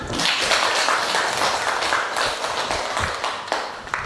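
A classroom of students clapping their hands during a history lesson, a lively burst of uneven claps that carries on for several seconds.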